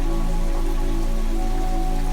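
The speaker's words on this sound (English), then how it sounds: "The city would be dark, the rain falling harder now, as if the clouds were crying." Steady rain falling on a dark city at night, a dense, even patter that stays loud and unbroken throughout with no voices.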